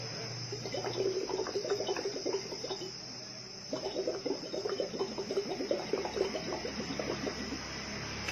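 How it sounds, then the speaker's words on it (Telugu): Bubbles blown through a straw into a glass of water make a steady run of gurgling, bubbling bursts, with a short pause midway before the bubbling resumes, with no talking. "ఒక స్ట్రా ఎండ్ వాటర్ లో ఉండేటట్టు చూసి స్ట్రాని బ్లో చేయండి సో దట్ బబుల్స్ వస్తాయి"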